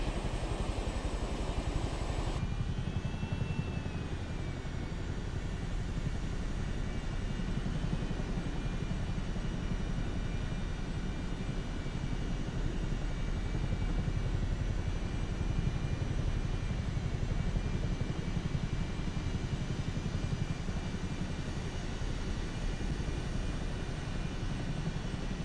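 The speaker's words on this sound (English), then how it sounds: "We'll do a nice little flyby for Willow and TX over here." Constant aircraft engine roar during a low flyby in Microsoft Flight Simulator 2024, steady and loud throughout with no talking.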